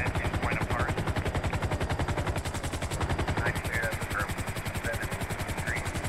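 A helicopter landing at a port in a video game, its rotor beating in a fast, steady, loud thump that never lets up, with faint voices and brief tones above it.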